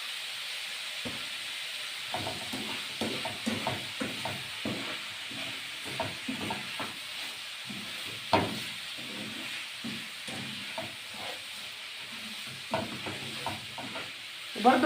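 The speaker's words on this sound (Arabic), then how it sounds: "الفلفل يا دوب هياخد تشويحه بسيطه وهطفي على الكبد" Alexandrian-style liver and peppers sautéed in a pan, a steady close sizzle broken by repeated scraping stir strokes in an uneven rhythm.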